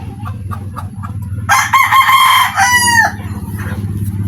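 A rooster in a backyard farm crows once, loud and close, with a drawn-out call lasting about a second and a half. It stands out against steady low background noise.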